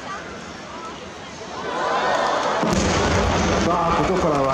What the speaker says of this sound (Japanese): 長島温泉大花火の開幕です